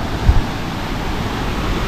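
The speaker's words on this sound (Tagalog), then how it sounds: "Lakas na talaga ng bulupok ng tubig." Strong gushing water churns steadily around a fishing net where fish are leaping, a broad rushing wash with wind buffeting the microphone and a couple of brief low thumps near the start.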